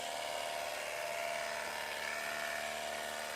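A cordless pressure washer with a partly drained battery runs at reduced pressure, giving a steady, even, high-pitched motor whine with a spray hiss, close and unbroken for the whole stretch, no talking.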